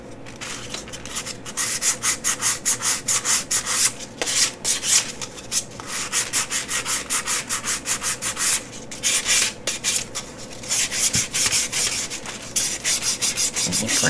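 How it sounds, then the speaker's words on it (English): Steady back-and-forth rasping of sandpaper worked by hand over a wooden box, a dense run of rhythmic strokes close up with brief pauses, no talking. "Got it sanded down there so you don't really notice it quite as much."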